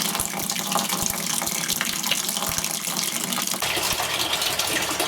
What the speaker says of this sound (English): I'm just getting rid of that water. I'm going to dispose of it. It's going into a dirty bucket.